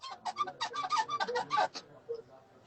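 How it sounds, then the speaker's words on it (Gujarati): A chair squeaks and creaks in a rapid series of short, high-pitched strains, fairly close, then trails off into quiet. "ચેર નો બહુ અવાજ આવે છે"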